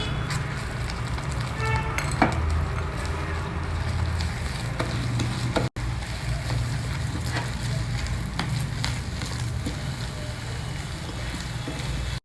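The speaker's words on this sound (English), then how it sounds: "just add 1 cup of this processed rice flour and stir it well together" Processed rice flour stirred into salted water at a boil in a pot for groundnut modak: a steady bubbling, sizzling wash with a low rumble, a few scraping stirs, and a brief cut-out midway.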